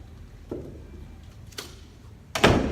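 A resistance band is anchored over the top edge of a door, giving a few separate knocks and thumps against the door, the last one louder and closer, with no talking.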